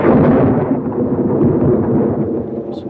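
A deep, heavy rumble of thunder rolls loud and close with no voices, holding steady before easing slightly toward the end.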